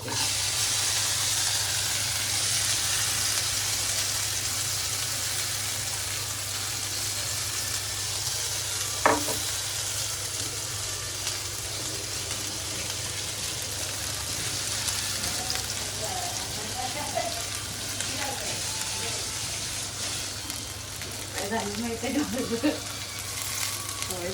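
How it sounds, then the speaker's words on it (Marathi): Peanuts fry in hot oil with a continuous hissing sizzle, close and even. Soft stirring and a few light clicks come in toward the end. "तेल गरम झालंय. शेंगदाणे टाकते."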